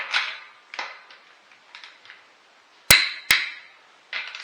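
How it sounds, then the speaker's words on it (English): Close metallic clicks and taps while lug nuts on a 2016 Toyota RAV4 wheel are rechecked with a torque wrench, a scatter of light ticks with two sharp, louder snaps near the end. "that's how I know that I am torquing the wheel correctly"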